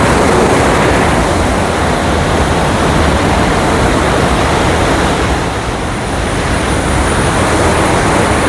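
Water roars from the opened shutter of Kallarkutty dam: a loud, dense, unbroken rush that holds steady for the whole stretch, with no voices over it.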